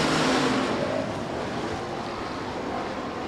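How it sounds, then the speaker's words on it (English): Hobby stock race cars roaring together at the green flag of a heat race at Rapid Speedway, a dense, steady engine drone that is loud and continuous with no clear breaks. "we're Hobby Stock racing here tonight at the Rapid Speedway"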